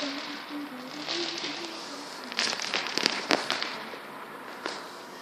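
Bonfire night fireworks over the UK on 5th November, with a few distant crackling bursts and pops clustered in the middle over steady outdoor background noise.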